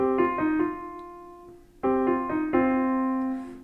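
Piano plays a short run of evenly spaced, straight sixteenth notes in two bursts, clear and close, with no talking.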